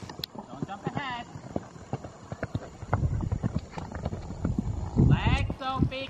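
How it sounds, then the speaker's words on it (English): Horses' hooves clip-clop in a steady trotting rhythm on an outdoor riding ground, close and distinct, with occasional whinnies and a person talking over the hoofbeats. "So all the horses are not jumping yet."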